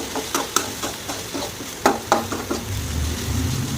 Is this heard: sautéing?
yes